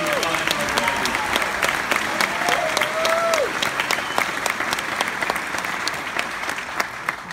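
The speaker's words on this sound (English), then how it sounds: "So, a big round of applause for our graduates." Applause for college graduates at a 2017 commencement ceremony in Scranton, northeastern Pennsylvania: a large crowd claps steadily and loudly throughout, with a few whoops and a whistle rising over the sustained clapping.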